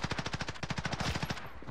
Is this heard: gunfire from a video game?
yes